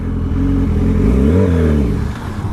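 Motorcycle engine idling close by, rising in a brief rev before sagging and dying out as it stalls.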